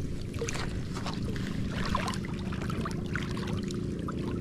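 Steady water sloshing and splashing around a small fishing boat as it moves along after a flood, continuous and close, with no voices.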